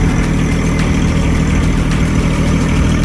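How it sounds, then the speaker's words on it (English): A small tractor engine runs steadily, a loud, continuous low rumble with an idling character that holds constant throughout, with no voices. "hoping our little tractor will make it up."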